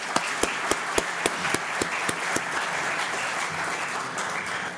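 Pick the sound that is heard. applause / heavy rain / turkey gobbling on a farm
applause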